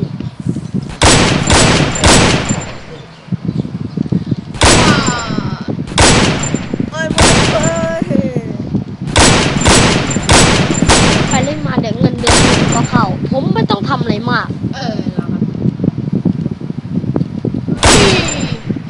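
Heavy bursts of gunfire from shooting zombies in the video game MTA, loud rapid volleys in several clusters with short gaps, close and dominant throughout.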